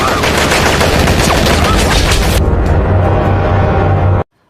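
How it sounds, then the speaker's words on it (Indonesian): Loud, dense battle gunfire from a Rambo film: sustained rapid automatic shots crackle for a couple of seconds, then thin out into sparser reports under rumble before cutting off abruptly. "Letnan Ai menyuruh para bawahannya untuk menembaki mereka secara membabi buta"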